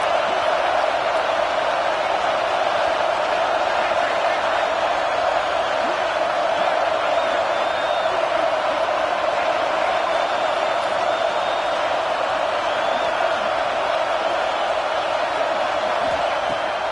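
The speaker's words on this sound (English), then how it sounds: "This crowd busting the decibel meter and trying to will a 4th down stop." A huge football stadium crowd roars continuously and loudly during a fourth-down defensive stand, a dense, unbroken wall of cheering noise with a commentator talking over it.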